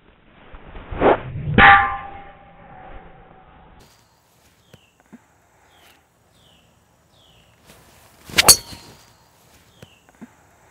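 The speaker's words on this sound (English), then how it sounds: "if you pay attention more to listen to the swish rather than focusing on hitting the golf ball, it'll help you hit it further" Golf club swing from a golf lesson, a short whooshing swish followed by a sharp clang-like strike near the start, then a second louder crack around the middle, with faint ticks in between.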